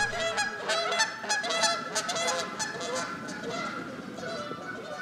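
A flock of geese honks loudly and continuously while flying in toward a decoy spread during a goose hunt, with many overlapping calls that are strongest at first and gradually ease off.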